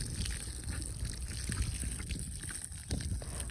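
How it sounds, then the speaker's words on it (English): Water sprays steadily from a garden hose onto a wild mustang mare, a continuous close hiss and splatter with small shifts in flow, with no talking. "I would hose her down because she really liked it"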